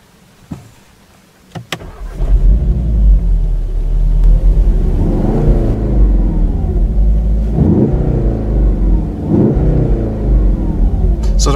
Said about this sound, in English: And now we're going to start up in race mode.